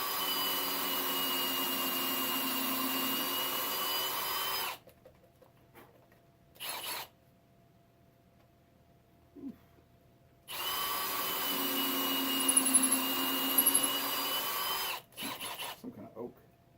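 A power drill bores holes into dense old oak in two loud, sustained bursts of whining motor and bit noise. Short quiet gaps separate them, with a few small clicks and brief shorter runs.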